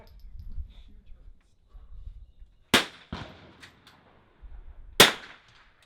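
Two sharp rifle reports from an NRL22 rimfire match ring out about two seconds apart, each a loud crack with a short ringing tail, while low, quiet talk murmurs between them.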